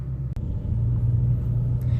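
A 2017 Ford Shelby GT350 pulls away with a deep, steady exhaust rumble, close and loud, the low drone holding for about two seconds.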